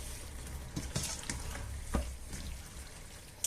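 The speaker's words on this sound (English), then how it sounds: "so we'll mix this all in nicely" Tuna pasta being stirred in a pan, close up: soft scraping and clacking strokes of a utensil at an uneven pace over a faint continuous sizzle, with no voices.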